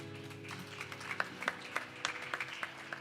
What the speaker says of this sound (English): Give our Kirtan Mandali a round of applause, please.